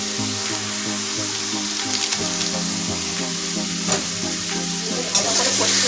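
Turmeric, chili powder and Kashmiri chili frying in a pan for Katla Kalia, a loud continuous sizzle with scraping stirs throughout, close up with no talking.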